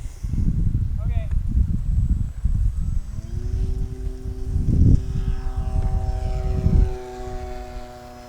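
Small electric Apprentice S 15e RC model airplane taking off from a geotextile runway in a crosswind, its propeller whine rising to a steady high buzz amid gusty wind rumble, with someone speaking briefly.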